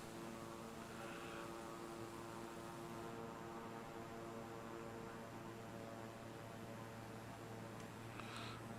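Propeller airplane engine droning steadily in Flight Simulator 2020 during a final approach with flaps lowered, a faint, even hum with no talk over it.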